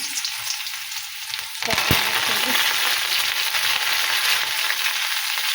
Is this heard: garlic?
yes